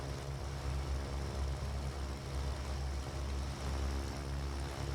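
Twin piston engines of a Cessna 414 Chancellor idle at low RPM in the flight simulator, a steady low droning hum with a constant tonal throb, fairly quiet and alone.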